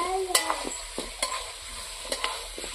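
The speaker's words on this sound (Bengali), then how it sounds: "ভাজা ভাজা হয়ে গেছে" Goat meat is stirred and fried in a pan: a spatula scrapes and clacks several times in an uneven rhythm over a low, steady sizzle, close up.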